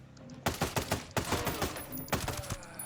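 Rapid burst-fire gunshots ring out in Ghost Recon Breakpoint, several tight three-to-four round bursts in quick succession, sharp and loud with no talking.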